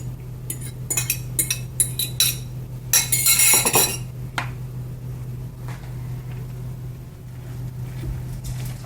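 Metal utensil clinks and scrapes against a bowl while stirring egg into a chicken and cauliflower rice mixture, with a burst of clattering strokes near the start and quieter, sparser taps after, over a steady low kitchen hum.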